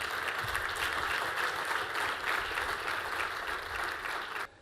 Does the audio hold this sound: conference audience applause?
yes